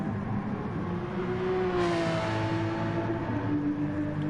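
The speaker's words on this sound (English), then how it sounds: "Fantastic noise by the Porsche again" Porsche GT race car engine revving loudly at Brands Hatch in a racing video game, a steady droning roar that climbs in pitch through the middle and holds near and continuous.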